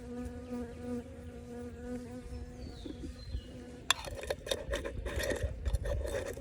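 Honey bees buzz steadily around an opened hive while its frames are being checked. The hum is continuous and close, and sharp clicks and knocks from handling the hive come through partway into the buzzing.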